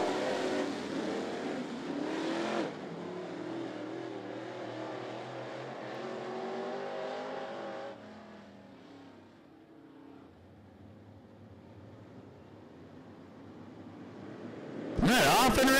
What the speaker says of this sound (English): we're off and running with this first of two Sportsman Meet races